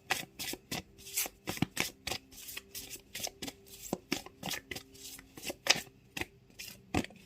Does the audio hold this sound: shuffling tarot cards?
yes